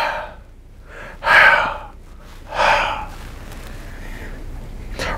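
A reader's voice imitates the heavy panting of Herbert, a mouth-breathing creature with an overbite, in a few loud, raspy breaths with short pauses between them.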